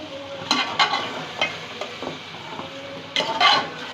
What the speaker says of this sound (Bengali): আবারও কিছুক্ষণ এভাবে নেড়ে চেড়ে ভেজে নিচ্ছি।